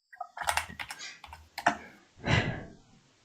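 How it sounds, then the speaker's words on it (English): Several quick bursts of typing on a computer keyboard, close and fairly quiet, in short irregular clusters of clicks followed by a slightly longer flurry, with no voices over it. "I can hear you typing."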